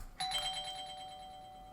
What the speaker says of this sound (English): As you are sipping your coffee, doorbell rings.